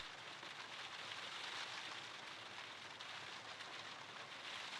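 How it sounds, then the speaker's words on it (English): Steady rain falls in the Sherlock Holmes: Crimes & Punishments video game, a dense, even hiss of drops on surfaces that continues without a break at moderate loudness, with no voices over it. "Excellent. It is raining."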